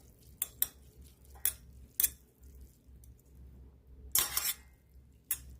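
Noodles tossed with spicy sauce in a bowl, utensils tapping and clinking against the dish in sparse, irregular strikes, close and fairly quiet between hits.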